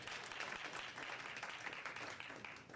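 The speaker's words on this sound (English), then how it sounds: "Let's give our leader, Peter Waregi, a round of applause." A room gives a round of applause for a leader, brisk continuous clapping from many hands at moderate distance, fairly faint and steady with no speech over it.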